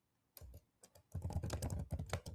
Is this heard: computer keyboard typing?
yes